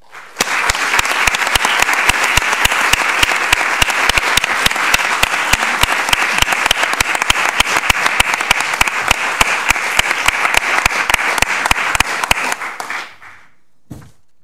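Steady, vigorous applause from the audience at a school board meeting runs for about thirteen seconds without a break, then stops abruptly into near silence.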